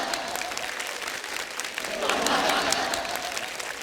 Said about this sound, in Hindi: आप सबकी जोरदार तालियों के बीच please welcome mister Naresh Kathuria.